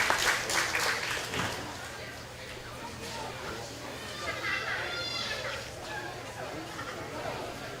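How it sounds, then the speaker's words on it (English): An audience at a county fair hog show applauds junior showmen in the ring, a moderate scattered clapping that swells briefly then lingers beneath crowd chatter and children's voices. "let's give these kids a nice round of applause left here in the ring"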